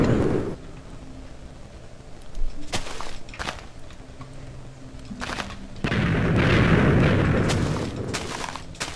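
TNT blocks exploding in Minecraft, several heavy booms spaced apart, with a big rumbling blast near the end, under quieter thuds and footstep-like clicks.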